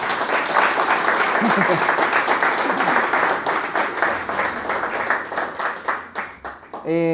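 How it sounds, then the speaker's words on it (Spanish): A church congregation applauding, a dense sustained round of clapping from many hands that gradually thins and fades out near the end, with someone speaking over it. "Sí, por favor, un aplauso para Rafa, ¿vale?"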